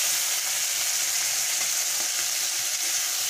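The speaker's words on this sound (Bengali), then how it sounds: "চিংড়ি মাছটাকে ভেজে নেব।" Shrimp frying in hot oil for a village-style Bengali shrimp and vegetable dish, giving a steady, close, continuous sizzle with no talking.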